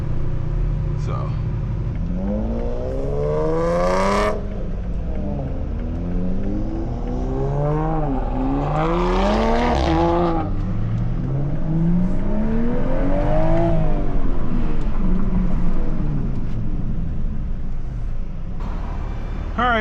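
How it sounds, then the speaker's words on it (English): Cars pull away one after another from a car meet, engines revving and rising in pitch as they accelerate past, with rumbling traffic throughout and people talking over it. "Some cars are starting to dip out."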